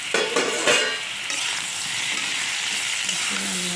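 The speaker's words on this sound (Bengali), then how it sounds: "ঢাকাটা উঠিয়ে আরেকবার নেড়ে দিই" Loud, steady sizzling of food frying in a pan, with scraping stirs near the start and a continuous crackling hiss throughout.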